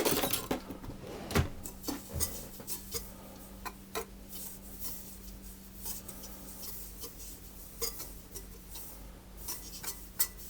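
A spoon stirs mixed spice and ground ginger in a bowl, giving scattered light ticks and soft scrapes at an irregular pace over a low, steady hum.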